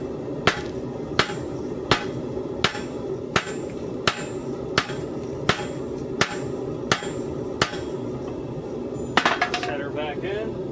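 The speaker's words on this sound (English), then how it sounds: "Just gonna set the welds." A hammer strikes a hot Damascus steel billet to set the forge welds, about a dozen sharp, ringing blows at an even pace over a steady background hum, with a quick flurry of lighter hits near the end.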